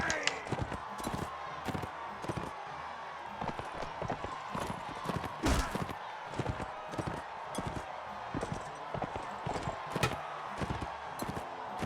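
A horse galloping in Mount & Blade, hooves pounding in a fast, steady clip-clop rhythm, close and prominent, with occasional louder impacts and faint background game noise.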